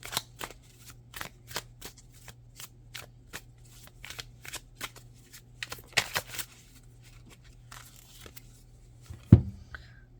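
Tarot cards being shuffled and drawn, a rapid run of crisp riffling flicks and card snaps close by, ending in a louder slap, over a faint steady hum.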